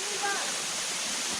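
Bad Aapkhol waterfall in Bargarh, Odisha, early in the season, a dense steady roar of falling water filling the scene close by, with a voice speaking briefly over it.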